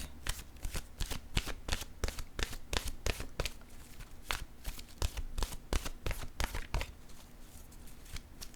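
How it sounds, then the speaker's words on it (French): Oracle cards being shuffled by hand, a rapid run of crisp riffling slaps and flutters, close and alone, with brief pauses between bursts. "Je vais piger maintenant une carte de mon oracle de l'âme intuitive."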